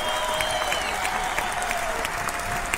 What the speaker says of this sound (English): Let's give him applause here.